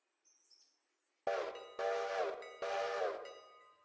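Passenger steam train departing in the railroad video game Railroader: a brief faint whistle, then three long loud blasts of a chime steam whistle separated by short gaps, close by.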